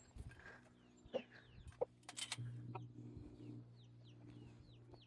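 Chickens on a farm cluck in short, irregular bursts, some nearby and some farther off, over a quiet background with occasional clatter.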